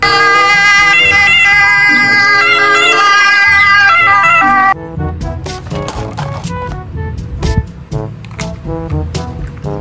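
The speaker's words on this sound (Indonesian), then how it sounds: "Mobil ambulan." A toy ambulance siren wails in a steady electronic tone, loud and close, then gives way to clattering, plasticky rattles for the second half.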